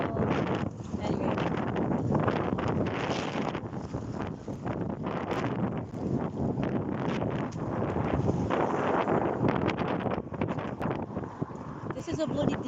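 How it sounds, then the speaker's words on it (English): Outdoors, strong wind buffets the microphone, producing a continuous loud rumbling roar with gusty fluctuations over the full length, and a voice can be heard speaking through it at times. "Oh my god, this wind is awful."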